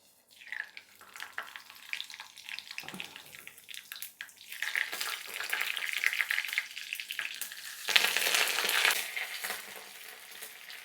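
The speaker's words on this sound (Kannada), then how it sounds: "ಜಜ್ಜಿರೋ ಬೆಳ್ಳುಳ್ಳಿ, ಕರಿಬೇವು, ಸ್ವಲ್ಪ ಜೀರಿಗೆ, ಸಾಸಿವೆ, ಒಂದು ಒಣಮೆಣ್ಸಿನ್ಕಾಯಿ, ಇದಿಷ್ಟನ್ನು ಹಾಕೋಣ" Crushed garlic, curry leaves, cumin, mustard seeds and a dried red chilli hit hot oil in a kadai, a close crackling sizzle that swells, steadies and flares louder again near the end.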